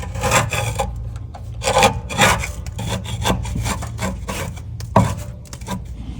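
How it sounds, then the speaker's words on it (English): Debris being scraped off the blades of a Kubota Z724KH-54 zero-turn mower: repeated close rasping strokes in an uneven rhythm, loud and gritty, with no talking. "So I'm just going to scrape that off on all of them."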